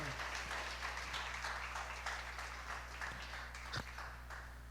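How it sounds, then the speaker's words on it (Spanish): A church congregation claps steadily during a sermon over a low background hum, the applause sounding somewhat distant and muffled, with a few sharper claps standing out. "Dele un aplauso si así lo cree"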